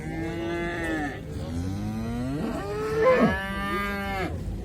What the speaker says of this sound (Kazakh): Үш туған бұзаулы сиыр.